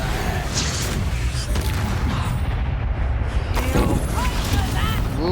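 Loud, dense Confringo spell explosions and crackling combat effects fill Hogwarts Legacy gameplay, with booming blasts and rumbling debris layered over a continuous battle din and a voice talking.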